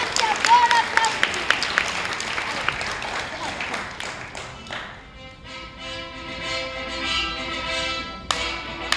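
A youth theatre audience applauds after a scene, giving a loud burst of mixed clapping that thins into scattered claps while music rises underneath.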